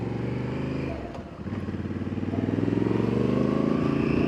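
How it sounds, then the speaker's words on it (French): A 2025 Honda Africa Twin engine runs close by, briefly dipping then revving up, with a rough, burbling, crackling exhaust note growing louder toward the end. "l'échappement, tu sais, il crapote un peu"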